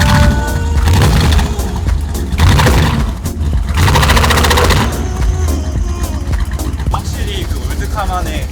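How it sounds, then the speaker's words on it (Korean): The engine of a 1955 Ford Thunderbird runs loud and rough close by, a raspy rumble broken by crackling pops and surges in several bursts. "확실히 그 올드카만의 특유의 소리가 나는 것 같아요."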